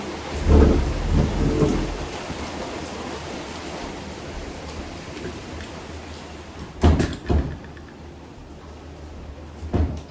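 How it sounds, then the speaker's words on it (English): Heavy rain pours steadily indoors near an open window, with loud thunder rumbling at the start and again later, a couple of sharp cracks of thunder cutting through the constant downpour. "the rain's coming down hard"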